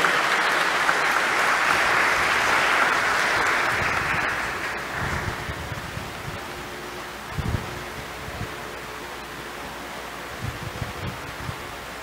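A graduation ceremony crowd claps loudly for the class of 2021, dense applause for about four seconds that then thins to scattered claps, thumps and rustling.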